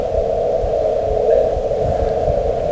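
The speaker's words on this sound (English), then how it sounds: "This little blip is the signal that was detected, shifted in frequencies and converted it into sound." Gravitational wave signal from two merging black holes, shifted into audible range: a steady droning band with a faint noisy hiss throughout, with no clearly separable chirp standing out.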